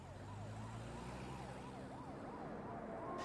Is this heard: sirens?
yes